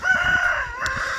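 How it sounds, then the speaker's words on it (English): A farm rooster crows up close and loud, one sustained cock-a-doodle-doo with a steady tone. "He's a really good rooster."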